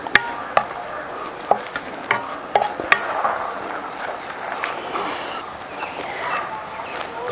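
Masala roasting in a pan for a drumstick and jackfruit-seed curry, with a spoon scraping and stirring in irregular clinks and scrapes over a soft steady sizzle, close by.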